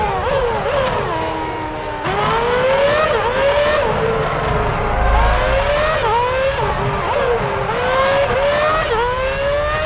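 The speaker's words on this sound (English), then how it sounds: "Villeneuve drives into the pits" Formula 1 race car in F1 2006 at Monaco, whining loudly with repeated gear changes as it drives into the pits; engine pitch rises and drops in steps over ten seconds, close and dominant.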